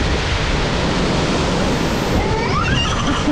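Ocean surf breaking steadily along a beach below an ocean-view vacation house, a continuous broadband wash of waves with no voices, close and fairly loud throughout.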